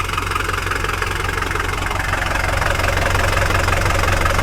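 The diesel engine of a 1979 Mercedes-Benz W123 idles steadily with a loud, even knocking clatter and a low rumble, close by and with no voices over it.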